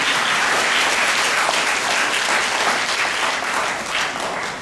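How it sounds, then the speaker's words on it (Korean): Sustained applause from a large audience fills a public debate hall on hospital room charges, dense and steady for several seconds before easing slightly at the end, with no voices over it. "유독 박수가 많이 나오는 걸 보는 거지."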